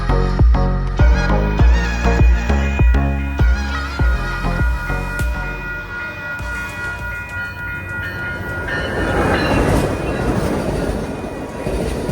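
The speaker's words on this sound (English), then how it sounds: "Well, that train skipped the station." An express train rushes past without stopping at a station, with a rapid, rhythmic clatter of wheels over rail joints, then trails off into a rumbling, hissing wash of noise.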